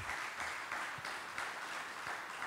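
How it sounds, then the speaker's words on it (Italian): Group applause for young people at a school presentation in Lignano, a short dense burst of clapping with faintly pulsing swells, moderately quiet and without speech. "facciamoci un applauso, che sia di incoraggiamento."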